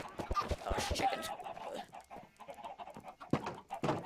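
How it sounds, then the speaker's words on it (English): Chickens in Minecraft cluck in short, busy bursts, several birds overlapping at close range, with a few sharper squawks near the end. "Gosh, chickens."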